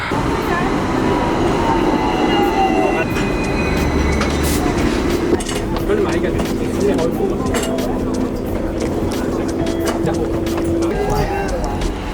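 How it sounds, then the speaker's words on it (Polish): Steady rumble of a Hong Kong tram in motion, with wheel squeals and rattling, while people talk in the background. "Wybraliśmy się na przejażdżkę tramwajem."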